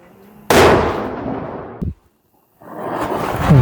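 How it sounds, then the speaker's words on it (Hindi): Firecrackers go off outdoors during Diwali: a loud sudden bang breaks into a long crackling rumble, then a short pop and a brief silence before another rising burst of crackling. "देखो पापा वहाँ पर पटाखे फोड़ रहे हैं।"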